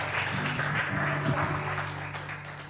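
Church congregation applauding in praise, steady broad clapping from many people with a low hum of voices beneath, moderately loud and continuous throughout.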